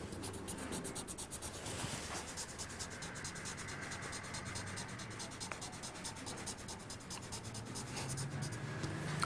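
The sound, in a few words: writing over paper with a secret fluid pen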